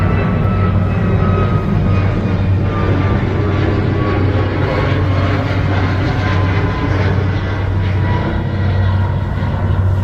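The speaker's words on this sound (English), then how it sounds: "as soon as this Southwest Airlines plane flies over us" A steady, loud jet engine roar from a Southwest Airlines airliner passing overhead in Boston, a broad continuous rumble that holds without breaks.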